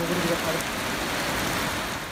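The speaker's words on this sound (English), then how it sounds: "Soon the rain fell heavily," Heavy rain pours down in a dense, steady hiss that fills the scene without pause, with a faint low rumble beneath and no distinct voices over it.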